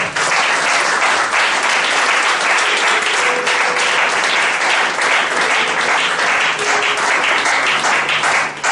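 A church congregation breaks into loud, sustained applause that fills the room with dense clapping from start to finish, and no voice rises above it.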